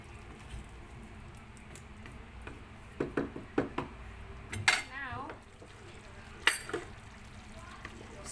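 A metal lid clanks onto a pot of simmering vegetables, chicken and sausage for Filipino afritada, with a few sharp close clinks and rattles over a quiet kitchen background.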